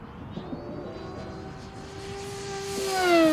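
A Durafly Rare Bear Reno Racer 680mm electric RC plane diving past downwind, its rising whine growing louder and sweeping upward in pitch as it closes in, with no talk.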